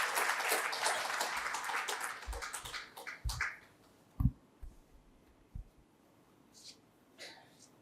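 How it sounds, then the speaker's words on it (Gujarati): An audience at a Gujarati book launch claps in a burst of applause that fades out over a few seconds, leaving a quiet room with a few faint knocks and shuffles. "આપણે જોરદાર તાળીઓથી વધાવીએ"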